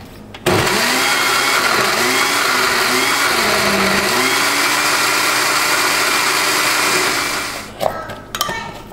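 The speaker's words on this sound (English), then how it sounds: "And blend it once again." A kitchen blender whirs loudly and steadily for about seven seconds while blending Haitian epis spice mix with clove and a bouillon cube, then winds down to a stop with a few clunks.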